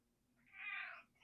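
A pet cat meows once, a drawn-out, insistent cry asking to be fed, close by and fairly clear against a quiet room, swelling in the middle and then trailing off.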